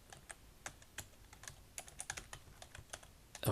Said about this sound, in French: Voilà, on tape son texte